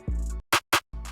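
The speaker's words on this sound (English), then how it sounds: "crispy clap" Crispy clap drum sample snaps twice in quick succession, sharp and bright, sitting between stretches of a deep booming low tone.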